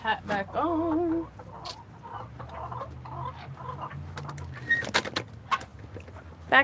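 Backyard chickens giving a few warbling clucks early on, then softer scattered clucks and rustling over low background noise, fairly close.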